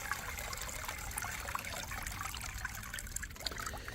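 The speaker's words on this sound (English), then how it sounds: "if you'll hold it here, that'll let all that water out really quickly." Water pours and trickles out of a lifted pool cleaner part, a steady close splashing rush throughout.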